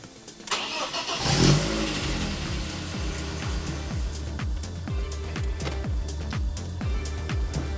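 A BMW E46 car engine cranks and catches, then revs in a steady rhythm of repeated throttle blips with a low, pulsing exhaust note, loud and close, with no talk over it.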